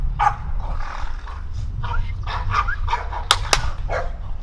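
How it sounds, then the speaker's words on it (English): Dogs bark in repeated loud bursts close by, several yips and woofs arriving in an uneven rhythm over a low background rumble. "Sorry about that. These dogs."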